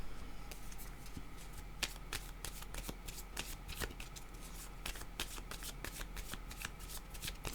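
Tarot cards are shuffled steadily in a rapid run of crisp riffling flicks that stays close and even throughout, with no talking.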